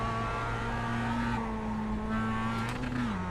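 A Mazda MX-5 race car in the iRacing sim drones with a steady, buzzy engine note that holds a constant pitch, then dips slightly near the end, alone without talk.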